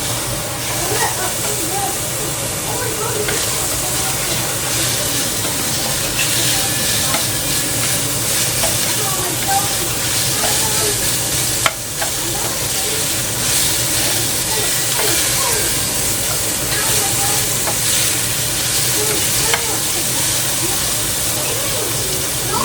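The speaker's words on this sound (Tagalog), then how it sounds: "Ilalagay ko na yung onions." Onions frying in a pan for pasta with meatballs, a steady loud sizzle with hissing steam and occasional stirring scrapes, continuous throughout with a voice talking over it.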